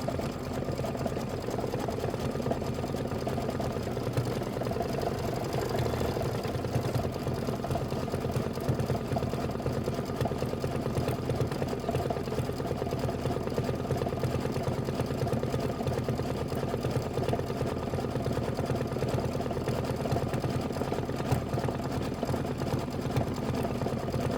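An embroidery machine stitches out an appliqué quilt block in a 4x4 hoop, a steady, even mechanical whir and rapid needle chatter that runs without a break, with no voices.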